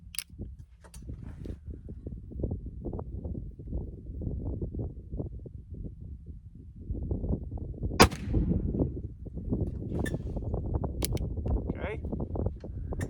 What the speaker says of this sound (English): let's continue shooting